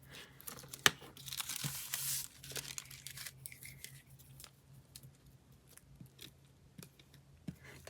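Tissue paper for a craft project is torn by hand in a close, quiet rip of crisp crackling, followed by small scattered taps and rustles of handling, with no talking.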